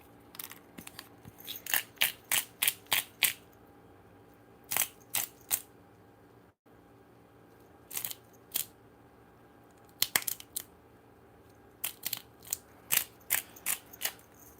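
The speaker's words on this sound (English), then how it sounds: "We got the pepper grinder." A pepper grinder cranks out pepper in a box-truck tiny-home kitchen. The grinding comes as quick clusters of crisp, close ratcheting clicks separated by short pauses, with no talking.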